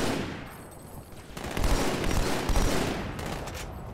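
Rapid automatic gunfire from a Halo 2 weapon, a dense, loud burst of shots that carries on for several seconds with little pause.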